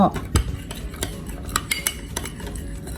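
A metal spoon clinks and scrapes against the side of a container while sugar is stirred into room-temperature milk to proof yeast for bread, giving repeated light clatters and soft swirling, with no talk.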